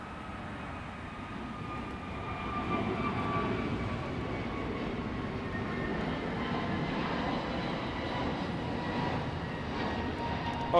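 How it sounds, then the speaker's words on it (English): An Airbus A321neo takes off from runway 25 right at LAX, heard as a steady, fairly distant jet roar that swells slightly and holds with a faint whine on top. "We got the A321neo taking off right now on 25 right."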